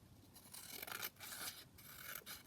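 Scissors cutting around a junk journal book page, a quiet, close series of short snipping and sliding strokes in quick succession, with no talking.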